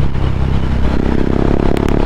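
Husqvarna Vitpilen 701 motorcycle with a single-cylinder KTM 690 engine running close by, a loud, rapid, rattly thumping throb that continues steadily throughout.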